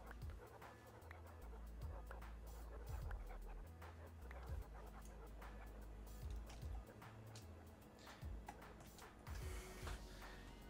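Crowd of dogs in the Minecraft video game, with repeated low barks and yelps piling up in a busy, continuous game soundscape with no talk.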